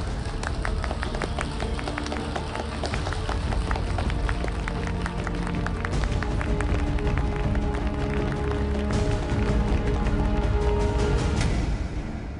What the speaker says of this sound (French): s'il vous plaît, applaudissements pour notre reine